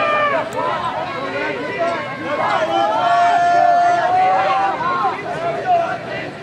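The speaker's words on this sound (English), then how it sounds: "And a very loud crowd here today." Loud crowd noise fills a high school lacrosse game in overtime at Arcadia High School in Phoenix, a steady roar of voices and cheering held throughout, with some shouts rising above the din.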